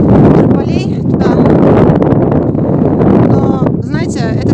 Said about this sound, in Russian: На открытом пространстве дует невероятно сильный ветер.